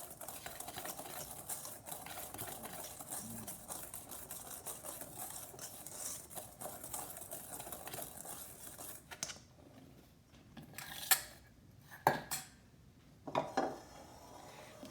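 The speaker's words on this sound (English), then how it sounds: "baking powder, salt, and cinnamon. I'm going to give this a quick whisk." Quick whisking of dry baking powder, salt and cinnamon in a bowl for pumpkin bread, a soft steady scraping rhythm, with a few louder clinks of the whisk against the bowl near the end.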